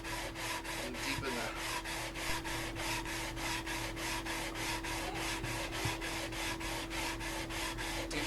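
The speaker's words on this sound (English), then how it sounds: "Sanding a little bit more." Steady back-and-forth sanding strokes on the fretboard of a Rickenbacker bass during a refret, a rhythmic rasping rub repeating about three times per second, close and continuous with no talk.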